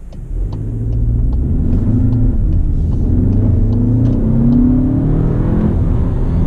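A Cupra Formentor accelerates hard in Sport mode, its engine rising from a low rumble into a loud, sustained rev with a climbing pitch, heard close from inside the cabin with no talk.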